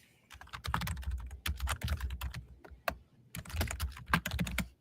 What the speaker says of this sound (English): y'all ready to hear this keyboard?